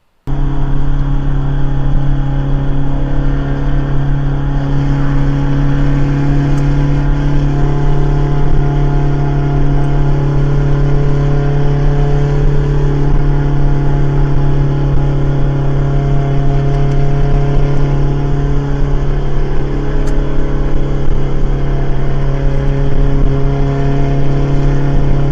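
A Detroit 4-53T two-stroke diesel with a single turbo and straight pipe runs at a steady idle, a loud, constant low drone with strong harmonic throb and turbo whine, close and continuous for the whole stretch.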